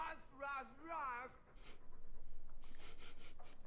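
In the Dragon Age 2 video game, a dog pants in quick, steady breaths that grow louder and more rhythmic through the second half, after a short stretch of whiny, voice-like sounds.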